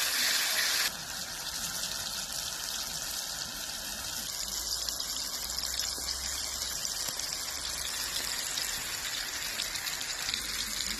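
Kola fish deep-frying in coconut oil, a Karaikal-style fish fry, giving a steady, dense bubbling sizzle throughout, fairly close and even, with no talking.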